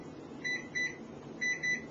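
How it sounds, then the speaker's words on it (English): An oven timer gives four short electronic beeps in two quick pairs as it is set for baking cinnamon pastries, faint and clear against a quiet room. "So I'll set my timer"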